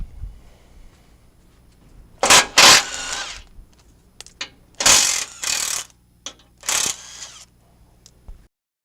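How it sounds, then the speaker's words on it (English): A ratchet with a 17 mm socket clicks in several sharp, loud bursts as bolts are removed from a Tacoma's skid plate, with short pauses between pulls. "We're using a 17 millimeter bit, and we're going to remove them and reuse the bolts."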